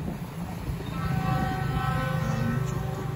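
The Taksaka passenger train rumbles past, a loud continuous roar of rolling stock with a sustained tonal horn note running through it, near and steady.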